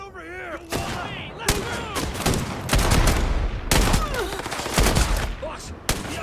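Rapid bursts of gunfire crack through a sci-fi firefight in Starfield's UC Vanguard mission, loud and close, with repeated volleys amid chirping alien or creature calls and a few game voices.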